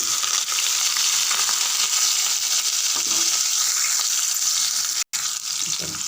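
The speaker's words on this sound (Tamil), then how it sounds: "ஒரு 2 செகண்ட் வெங்காயம் வதங்கட்டும்." Chopped onion, garlic and curry leaves fry in hot oil for sambar, giving a steady, loud, close sizzle that runs unbroken apart from one brief cut, with no talking.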